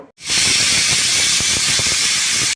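A pressure cooker whistle bursts out a loud, continuous hiss of steam while cooking chicken biryani, holding steady for about two seconds before stopping abruptly.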